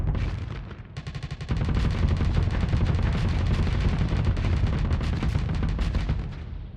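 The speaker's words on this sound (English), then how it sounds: "Switch to your chain guns and punch through the armor." Rapid chain gun fire pounds a ship's armor in the space combat game Starsector, a dense, loud, continuous stream of gunshot-like bursts that starts lighter, thickens after a second and holds steady before easing off at the end.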